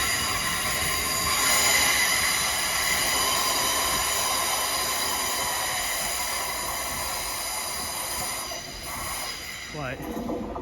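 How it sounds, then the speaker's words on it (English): A passenger train on a diverted North Staffordshire Railway route bound for Birmingham New Street rumbles steadily past, with sustained wheel noise, a high squealing whine and a hiss, close and loud throughout before easing slightly near the end. "there goes the Birmingham New Street service that's come from crew"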